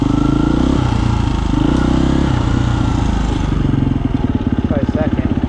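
A 2022 KTM 350 EXCF dirt bike with an aftermarket ECU chugs along in first gear with no clutch, its engine note loud and close, steady at first and then breaking into rapid throbbing pulses.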